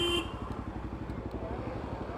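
A motorcycle engine idles with a steady, low, throbbing chug close by, near a parcel office in a large city, with a brief horn-like tone at the very start.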